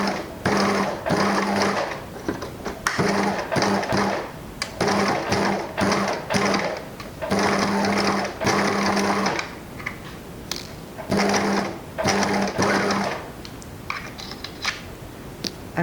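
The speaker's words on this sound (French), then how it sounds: "faire une piqûre droite tout le long, avec quelques allers-retours sur l'élastique." Domestic sewing machine running a straight seam along a fabric barrier mask, with short back-and-forth passes over the elastic; bursts of rapid mechanical stitching start and stop repeatedly, close and clear, with no talking.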